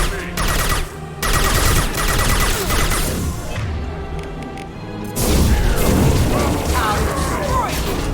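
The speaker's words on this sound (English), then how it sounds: "Firing a high-impact shot!" Heavy weapon blasts and booming impacts from Mass Effect 2 combat, with a dense burst of shots near the start and a loud explosion around the middle, over continuous battle noise and voices.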